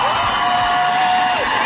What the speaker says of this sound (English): The applause.